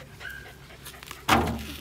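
A small spitz puppy pants softly, then gives one sharp, close bark near the end, with faint background noise.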